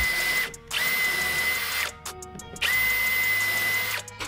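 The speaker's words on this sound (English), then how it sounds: "Then we'll put some bigger holes where we're going to weld through and stick it to the car." A power drill bores larger holes through a steel bracket for an Escort Cosworth, running in long steady whining stretches with a high pitched tone, broken by short pauses and a brief stop-start burst, close and fairly loud.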